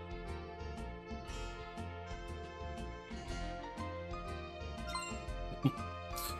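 Harvest Moon 64 video game audio, rapid little blips of the text sound ticking along over the game's cheerful background music, moderately quiet, with a small click near the end.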